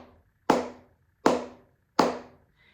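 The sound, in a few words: flamenco palmas sorda, muted hand clap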